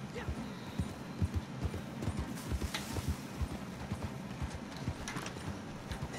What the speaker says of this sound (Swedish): Häst blir rädd, rädd, rädd.